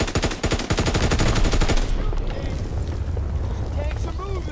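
Rapid bursts from an MG15 machine gun in the World War II shooter Call of Duty: WWII, set in Normandy: a dense run of sharp shots for about two seconds, then a rumbling, windy battle wash with faint distant noise.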